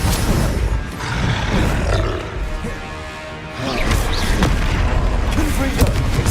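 Repeated Confringo fire-spell blasts in the video game Hogwarts Legacy, booming roars layered over continuous game noise, with a voice shouting spell names throughout.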